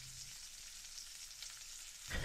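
Food frying in a pan while breakfast is cooked, a steady soft sizzle running throughout at close range, alone with no talk, before a brief louder rustle at the end.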